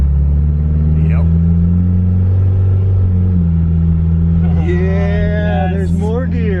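A Mitsubishi Eclipse drones loudly from inside the cabin as it accelerates, its engine tone stepping down through gear shifts, while people talk over it.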